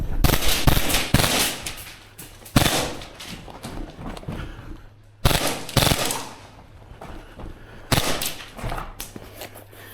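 A Krytac Maxim 9 airsoft gun fires in several rapid, loud bursts, each sharp string of shots separated by short pauses, with no talking over it.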